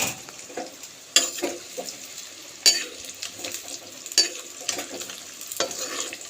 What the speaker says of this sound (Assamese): গৰম তেলত অলপ ভাজি দিলে ভাল।